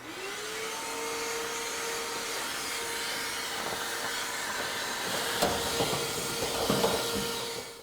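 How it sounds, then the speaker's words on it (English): A vacuum cleaner whines steadily close by inside a Samsung dryer, clearing lint, a constant high-pitched hiss with brief clunks and scraping toward the end. "So vacuum it."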